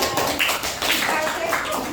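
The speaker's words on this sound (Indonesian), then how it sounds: "Oke, kita beri tepuk tangan" A classroom of students claps for a classmate during a lesson, a dense, steady patter of many hands that stays close and fairly loud from start to finish.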